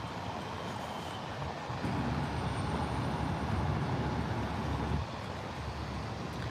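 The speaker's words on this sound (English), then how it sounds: "Whew, that was the train." A train passes near a street, a broad rumbling roar that swells to its loudest in the middle before easing back to a steady background drone, with no talking.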